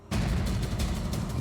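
Gunfire in a Bengali-language CID crime drama episode: a sudden loud burst that carries on as a sustained, rolling blast, with no talk over it.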